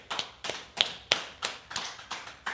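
Slow, steady clapping from one person: about eight crisp, evenly spaced claps, close and clear, with no talking over them.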